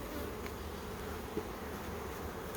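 Honeybees hum in a continuous, steady drone while a National beehive is opened for a full inspection, with the buzz close and even throughout and no talking.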